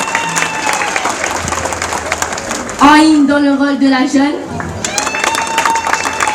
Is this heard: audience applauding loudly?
yes